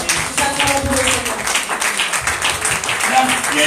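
A church congregation applauds and acclaims the Lord, a dense wash of clapping and cheering voices filling the space steadily throughout, close and loud with a lively crowd murmur beneath.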